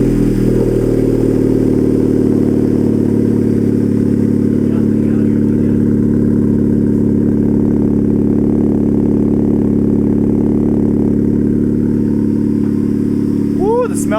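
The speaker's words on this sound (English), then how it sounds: "we're gonna get that beautiful cold start" A Honda Civic Type R FK8 with a catless PRL downpipe runs with a loud, steady engine drone throughout, close up, with a brief rising whine near the end.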